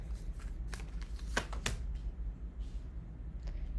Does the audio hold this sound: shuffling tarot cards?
yes